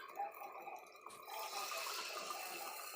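Water poured into ground masala in a clay pot for fish curry: a steady splashing pour that begins after a short pause and keeps running, close and fairly soft, with no talk.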